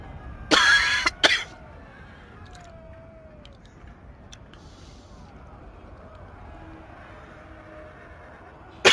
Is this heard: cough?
yes